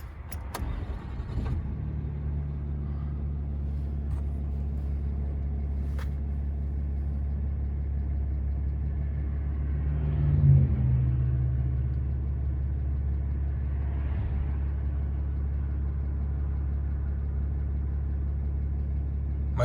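A Dodge Cummins diesel pickup engine runs at a steady low idle, a continuous deep rumble with a brief swell partway through and no talk.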